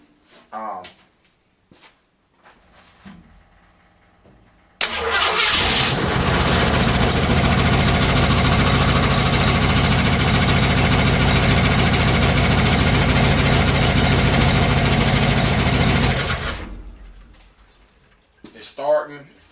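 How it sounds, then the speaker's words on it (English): A few clicks, then an old car engine with a freshly adjusted carburetor, unstarted for 35 years, catches with a sudden loud roar and settles into a steady, ticking idle before shutting off. "It's starting and it's idling pretty fair."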